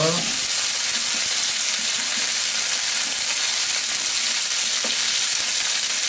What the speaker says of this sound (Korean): 삼겹살을 좀 많이 익은 부분이 보이게 이렇게 노릇노릇하게 구우시면 돼요